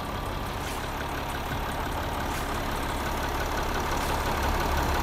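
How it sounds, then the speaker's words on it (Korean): A Mercedes-Benz GLE 350 d diesel engine idles at close range, a constant low rumble with an even mechanical hum and no talking. "엔진 소리 일정합니다"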